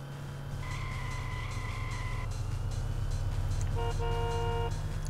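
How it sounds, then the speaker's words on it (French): A car horn in the PS1 racing game Paris Marseille Racing, a synthetic two-tone toot held for about two seconds, then a shorter second honk, over a steady droning engine. "On a un klaxon."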